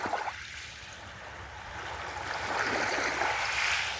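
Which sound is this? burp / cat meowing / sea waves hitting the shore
sea waves hitting the shore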